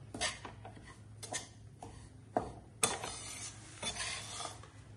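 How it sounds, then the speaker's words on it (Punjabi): Flour being stirred and roasted in ghee in a pan for a festive sweet, with repeated scraping strokes of a spoon against the metal and soft clinks, close and moderately quiet, with no talking. "ਆਪਾਂ ਇਹਨੂੰ ਹਲਾ ਕੇ ਪਕਾਈ ਜਾਣਾ ਤੇ ਪਕਾਈ ਜਾਣਾ"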